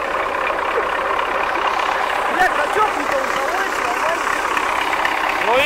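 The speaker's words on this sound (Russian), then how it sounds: "Чип и Дейл заводят трактор" An MTZ tractor engine runs at a steady idle, a continuous broadband rumble at an even level throughout, with no clear start-up surge.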